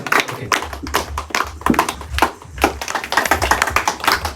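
An audience claps in scattered, uneven handclaps that overlap in quick bursts, fairly close and loud, with no talk over them.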